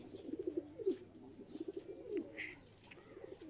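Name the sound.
young pigeon cooing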